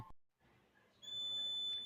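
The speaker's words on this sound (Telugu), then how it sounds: "సో చూసుకోవచ్చు మళ్ళీ స్మోక్ వెళ్ళిపోగానే బజర్ అయితే యాక్టివేట్ అయింది" Buzzer on an MQ2-sensor smoke detector starting up again after incense smoke clears: a thin, steady high-pitched tone switching on and holding, faint but alone, after a brief click and near-silence.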